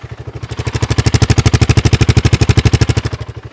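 A BSA Gold Star single-cylinder motorcycle engine idles on tick over, a steady, loud, close thumping pulse with an even beat that swells slightly partway through and stays alone without talk.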